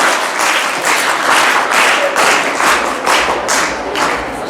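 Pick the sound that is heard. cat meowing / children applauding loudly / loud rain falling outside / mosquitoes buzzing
children applauding loudly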